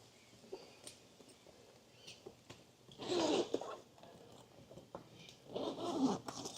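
Zipper drawn open on a leather Leather Pros Retro Series V3 motorcycle saddlebag fitted to a Harley M8 Softail Street Bob, two close, quiet bursts of zipping separated by soft handling rustles.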